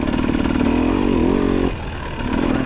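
A two-stroke dirt bike engine with throttle body injection, ridden at low RPM on a hill trail, gives a loud, close, steady buzzing drone that dips briefly and then picks up again.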